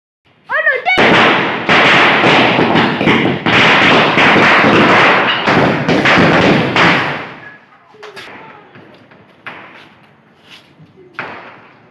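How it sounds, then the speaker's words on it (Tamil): Firecrackers and a whistling rocket set off outdoors on a rainy Karthigai Deepam festival night, with a sharp whistle at the start, then a long loud roaring burst of crackling bangs, followed by fainter scattered pops and voices. "விசிலிங் ராக்கெட் பற்ற வச்சாச்சு."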